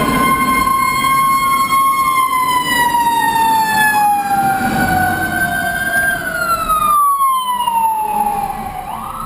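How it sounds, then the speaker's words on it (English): A fire engine siren wails loudly and sweeps up and down as it passes close by on a Baltimore street, with engine rumble beneath and no talking. "there's a fire engine going past"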